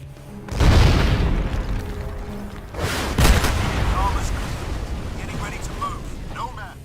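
Explosions and gunfire in the video game Crysis: a deep booming blast followed by a second heavy detonation and scattered shots, with a narrating voice over the top.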